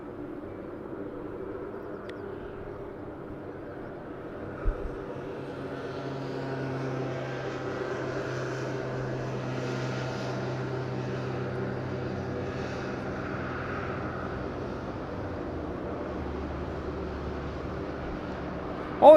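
A Piper Malibu propeller aircraft takes off at Madeira Island Airport, its engine drone swelling from a distant hum to a broad steady roar midway, then easing off, heard from afar over faint background noise.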